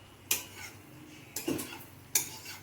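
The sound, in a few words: stirring food in a pan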